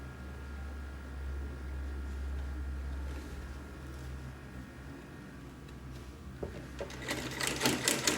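A sewing machine runs a steady hum while stitching a corset dress seam, then breaks into rapid, louder mechanical clatter toward the end, close and alone.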